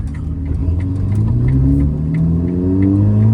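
A Ferrari engine revs up close in a traffic jam, its pitch climbing steadily and loudly, with faint traffic sounds around it.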